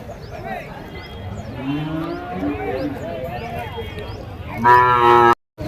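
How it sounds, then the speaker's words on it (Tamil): Native cattle at the Matrapalli cattle market moo in a series of low, drawn-out calls over steady crowd and market noise, ending in one loud, close, harmonic-rich moo. "ஸோ நாட்டு பசு மாடுங்க."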